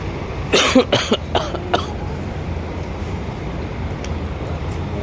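A short burst of several harsh coughs in quick succession, fairly close, followed by steady low background rumble.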